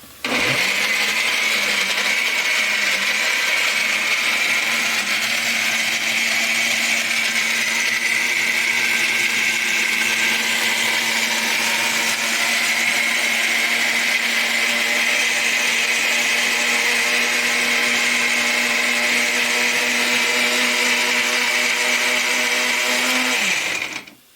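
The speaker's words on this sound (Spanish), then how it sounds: "vamos a licuar nuestra leche de coco" An electric blender runs continuously, loud and close, for about twenty-four seconds while making coconut milk, with a steady motor whine that starts and stops abruptly.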